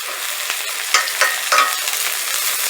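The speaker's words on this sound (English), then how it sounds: "get these in a hot pan. Mix them up real quick." Pieces of alligator meat sizzling loudly in a hot pan while being stirred, a steady close frying hiss with a few scraping stir sounds and no voices.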